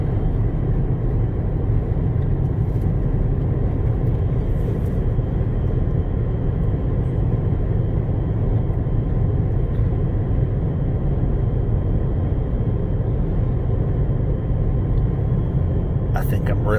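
Inside a 2014-2015 Dodge Avenger with a 4-speed automatic, cruising on a highway at about 81 mph: a steady, loud, low road and engine rumble with wind hiss runs unbroken throughout.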